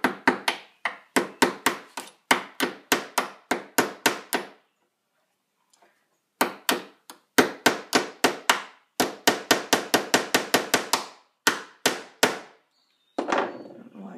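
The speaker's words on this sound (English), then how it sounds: "It's like my favorite hammer for little things." A small hammer taps nails into wood for a handmade candle holder, loud sharp close strikes in quick bursts of several blows, with a brief pause midway and no talk.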